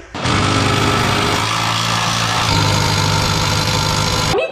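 A Ford Focus ST fitted with an MBRP cat-back exhaust runs nearby, a loud, raspy, steady engine drone lasting a few seconds before cutting off, with no talk.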